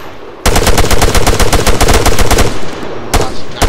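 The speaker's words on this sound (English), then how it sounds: "Machine gun, right side" Loud machine gun fire in the ArmA 3 video game, a rapid continuous burst of close shots lasting about two seconds, then a brief pause and a shorter burst.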